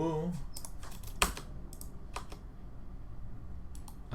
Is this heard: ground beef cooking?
no